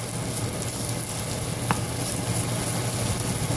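Beef strips sizzle steadily in melted butter in a pan, a loud, close and continuous frying hiss with one faint tap partway through and no talk.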